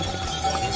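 Horse hooves clip-clopping on a mountain trail on the Kedarnath pilgrimage route, a brief stretch of muffled steps under steady outdoor background noise.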